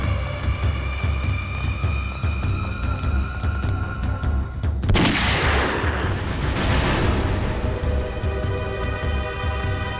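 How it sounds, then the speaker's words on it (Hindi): A single sharp gunshot cracks out midway through a tense scene in a Hindi crime drama episode, loud against a steady background of music and ambient noise, with a lingering burst of noisy decay afterward. "गोली चलने की आवाज।"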